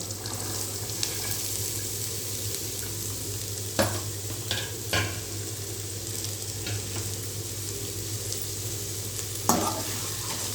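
Carrots and beans sizzle steadily in hot oil at close range, with occasional scraping clinks of a spoon stirring the pan.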